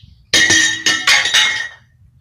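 A loose steel piece pulled from a scrapped water softener clinks and clatters metallically, with four or five bright, ringing hits in quick succession, fairly close and loud, then fading.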